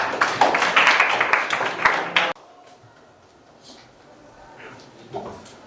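Students in a classroom clap for a classmate about to lead the opening prayer, a quick burst of close, uneven hand claps lasting about two seconds before it cuts off to quiet room tone with faint movement.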